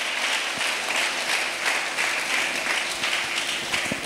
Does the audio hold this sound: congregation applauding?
yes